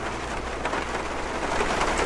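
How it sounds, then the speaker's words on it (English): Heavy rain falls in the hunting game Hunter Call of the Wild, a dense, steady hiss of downpour close around the listener with a low rumble beneath, no voices. "Rain's getting kind of heavy."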